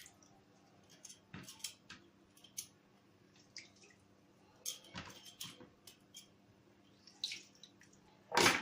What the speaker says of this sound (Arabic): نعصر كده ليمونتين